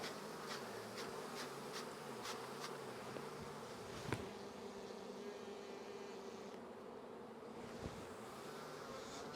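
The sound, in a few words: honeybees buzzing around opened hive frames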